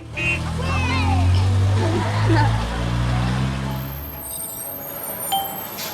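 A van engine rumbles steadily at close range, joined by brief squealing brake-like chirps early on, and the rumble fades toward the end.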